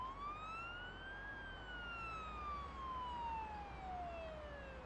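Ambulance siren wailing at a distance, a single long tone rising then slowly falling over a low background rumble, with no speech.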